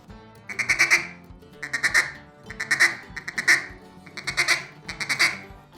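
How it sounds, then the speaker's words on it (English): A mallard duck call is blown in a stuttering feed pattern, six rhythmic clusters of rapid, choppy quacks spread evenly, loud and close, with the tone shifting slightly from group to group. "Now, this is probably the most realistic sound to what a mallard is actually making when it's sitting on the water."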